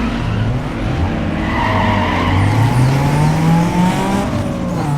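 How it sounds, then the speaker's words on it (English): A front-wheel drive car does a burnout in the racing game Need for Speed Underground 2, with a steady loud engine drone and a continuous tire squeal rising in pitch across the whole stretch, no talking. "A burnout with a front-wheel drive car"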